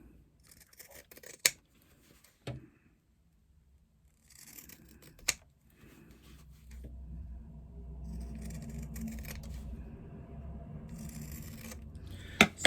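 Scissors snip through the fabric corners of a woven bag pocket, trimming off thin triangular slivers in a few sharp, close cuts, with quiet rustling and handling of the cloth between them.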